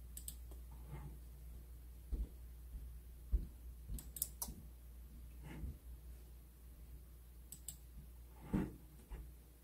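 Sharp isolated relay clicks from a DIY garage door controller, about eight scattered irregularly over a quiet background hum, some sounding doubled; crisp mechanical snaps at close range with no voices.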